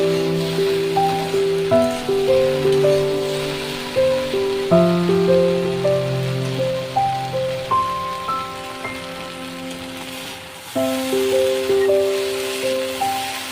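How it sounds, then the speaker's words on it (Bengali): Okra (bhindi) frying in a pan on a gas stove gives a steady, continuous crackling sizzle that runs the whole time, close up and moderately loud, with a melodic music track playing over it. "দেখুন বন্ধুরা, কত সুন্দর ভাজা হয়ে যাচ্ছে"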